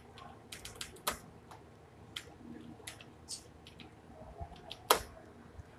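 Keys clack on a computer keyboard while text is typed into a Word document, sparse irregular taps with a few sharper louder strokes, quiet and close in a calm room with no voices.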